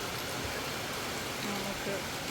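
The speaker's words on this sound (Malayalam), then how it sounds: "മഴയാണ്." Steady, even rain hiss on a Kerala rainy day, a dense wash of falling drops that holds constant and moderately loud throughout with no clear voices.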